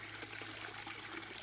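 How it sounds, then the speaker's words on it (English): Water pours from a hose into a garden sprayer jug, making a faint, steady trickling wash with no voices. "When I add the other 2 gallons of water,"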